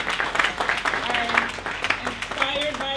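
Applause for striking union writers at a rally, scattered clapping mixed with crowd voices and someone speaking over it, moderately loud and continuous for a few seconds.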